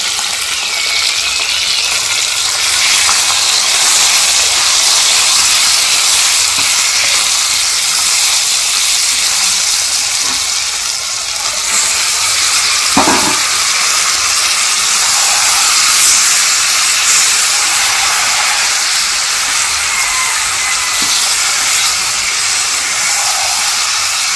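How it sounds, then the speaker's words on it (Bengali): Meat frying in a pan with chili, onion, tomato, and ground garlic and ginger paste, with salt and turmeric added, gives a loud, steady hiss of sizzling and steam throughout, with no talking. "একে একে লবণ, হলুদ সব দিয়ে ভালো করে মাংসটাকে কষাই"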